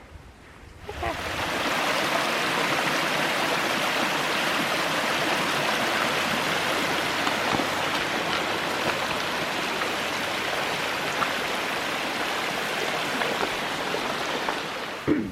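A steady rushing of a flowing stream, close and continuous, a broad hiss of moving water with no talking.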